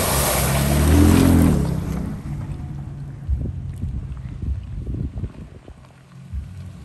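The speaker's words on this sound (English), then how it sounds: "good opportunity to showcase a little bit of a water fording" A Ford Raptor pickup fords floodwater after rain at a deer camp, starting with a loud, close rush and rumble of water. Softer sloshing and splashing follow with wind noise.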